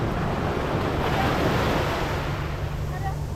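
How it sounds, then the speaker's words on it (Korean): Sea waves roll onto a sandy beach at Daecheon Beach, making a continuous loud wash of surf with wind buffeting the microphone and no clear voices. "유준이가 처음으로 바다를 보고 있어."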